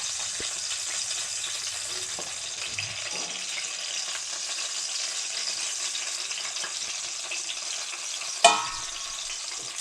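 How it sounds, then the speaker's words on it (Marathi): Stuffed brinjal masala sautéing in a pan gives a steady, close sizzling hiss for the whole stretch, with faint stirring scrapes and one sharp metallic clink near the end. "असं थोडं परतून घ्यायचं चांगलं परतायचं ह्याला"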